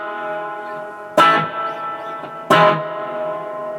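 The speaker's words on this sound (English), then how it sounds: "Reverb, turn it back a bit" Electric guitar through a spring reverb turned down slightly, playing two sharp strummed chords over a held tone, each followed by a short reverb tail.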